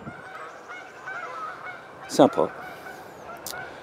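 Honks from wild geese passing overhead above a spring garden, with a couple of sharper, louder calls near the middle standing out against a quiet outdoor background; a brief spoken word is also heard.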